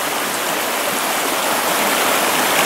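Small stream on a winter fly-fishing trip with water pouring over into a pool, a steady, close, rushing flow with no break, alone without voices.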